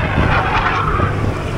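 A military jet on a training flight roars overhead above Stockton Beach, a loud, steady broadband rush that fills the whole moment.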